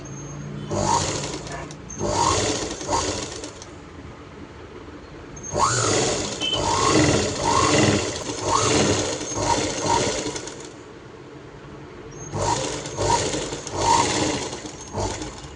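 A sewing machine stitches a blouse in three separate bursts of loud, steady mechanical whirring, with quiet pauses between runs.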